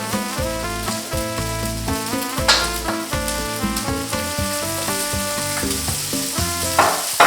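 Cooked rice pushed to the edges of a wok, with oil poured into the centre, gives a bright, steady frying sizzle with occasional louder bursts, heard under a continuous musical backing.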